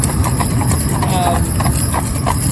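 The hooves of a roan cob horse clip-clop steadily on a town road while it is driven in harness. The hoofbeats sit under constant loud traffic and engine noise, and someone speaks at one point.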